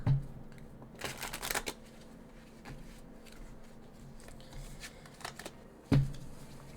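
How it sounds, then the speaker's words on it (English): Tarot cards are being shuffled quietly by hand, with a few riffling bursts and soft rustles between them. A firmer tap or thump comes near the end. "one more shuffle, get a really good one in here too"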